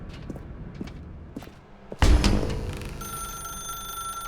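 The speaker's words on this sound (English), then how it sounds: "Now pick up the phone, said the bucket." A telephone rings in The Stanley Parable video game, a sudden loud burst followed by a steady electronic ringing tone that carries on to the end.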